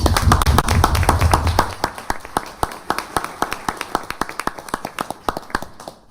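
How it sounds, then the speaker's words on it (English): City council meeting audience claps, starting as a full round of applause that thins into a handful of distinct, evenly spaced claps fading out. "Let's give them another round of applause"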